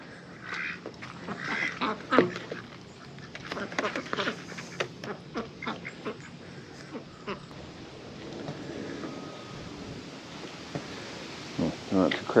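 Ducks at a pond quack in repeated bursts, some close and loud, others scattered, with people talking intermittently and outdoor ambience in the background.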